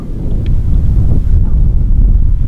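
Strong wind gusting across an open golf course, a steady low rushing roar buffeting the microphone throughout without letup.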